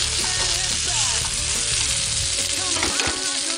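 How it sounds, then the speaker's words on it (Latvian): Pelmeni dumplings fry in a pan with a steady, close sizzle and crackle of hot oil that holds unbroken for several seconds, with occasional louder spits near the end. "Kamēr pelmiņu cepjās"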